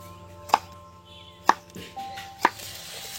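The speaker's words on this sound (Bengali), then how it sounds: "এইগুলো কেটে নিচ্ছি দেখুন টমেটোগুলো" A knife chops tomatoes on a board in a home kitchen, with three sharp, evenly spaced cuts about a second apart over a quiet background.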